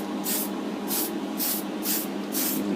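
Short rhythmic bursts of spray paint laid on in light coats over a Deagostini Millennium Falcon model, five quick hisses in steady succession over a soft constant background hum.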